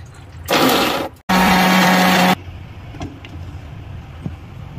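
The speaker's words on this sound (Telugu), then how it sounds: "వాటర్ పోసి మళ్ళీ ఆన్ చేస్తా." A mixer grinder blends carrot and beetroot with water in two loud whirring bursts separated by a brief stop, then cuts off, leaving quiet room sound with faint clicks.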